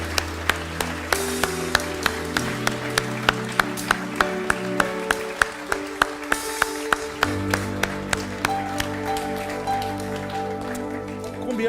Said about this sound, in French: J'aimerais qu'on puisse applaudir celles et ceux qui servent en dehors de ces murs.